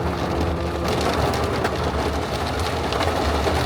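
Heavy rain pours down in a dense, steady hiss that fills the whole stretch, loud and close, with no voices over it.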